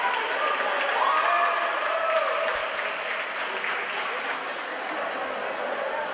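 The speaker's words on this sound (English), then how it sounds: "applause for the final swimmer." Spectators at a high school swim meet between Lynn Vocational Tech and Mystic Valley Tech clap for the final swimmer. The applause is a steady, moderately loud crowd wash echoing in an indoor pool hall, with faint voices mixed in.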